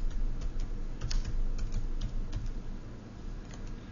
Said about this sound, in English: if I go into column B and I start typing